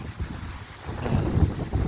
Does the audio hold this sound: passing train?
no